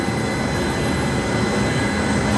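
A Bell 429 helicopter's turbine engine spools up during start, a loud steady whining roar with broadband rush, heard close and continuous.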